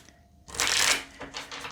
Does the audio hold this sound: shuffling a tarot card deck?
yes